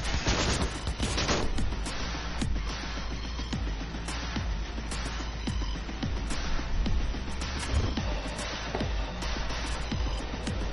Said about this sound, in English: Who's trying to shoot at me?